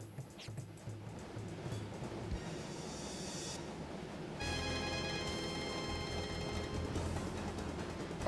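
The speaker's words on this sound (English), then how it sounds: "Another train!" A train rumbles past in the video game Wild Arms 3, a steady rushing, clattering roar that grows fuller midway and carries on to the end, fairly faint and with no talk.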